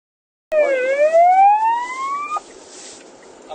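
A police car siren starts abruptly and sweeps upward in a single loud wail, then cuts off and leaves quieter road background.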